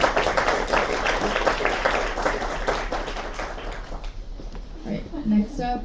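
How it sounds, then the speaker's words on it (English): Applause and clapping from a conference audience, with dense rapid claps that thin out toward the end as a voice begins speaking. "Let's give a big round of applause to Josh."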